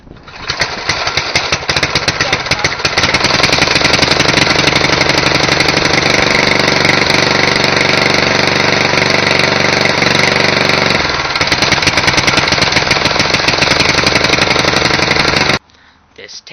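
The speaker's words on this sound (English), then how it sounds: "Today, this is a Roto Hog shredder." A Roto Hog shredder with an 8 horsepower Tecumseh engine running loud and close, a harsh rapid chugging roar that holds steady for about fifteen seconds before cutting off abruptly.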